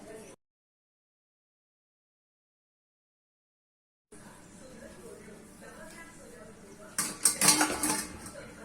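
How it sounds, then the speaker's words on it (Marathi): A spoon scrapes and clatters in a pot while a bean and eggplant curry with coconut is stirred, soft scraping that turns into a louder burst of metallic stirring near the end, following a stretch of silence. "आता आपण भाजी ढवळून घेऊया"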